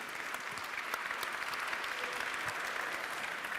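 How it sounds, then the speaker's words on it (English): A conference audience gives the speakers a round of applause at a session on the digital and green transition in manufacturing. Dense, steady clapping from many hands, fairly soft and distant, carries on without a break and without voices. "Please have a round of applause just to start with some energy for the speakers"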